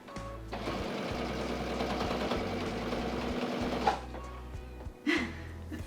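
A sewing machine stitches quilt blocks in a steady, continuous run of rapid needle strokes, close and fairly loud, pausing briefly near the end with a couple of small knocks before starting again.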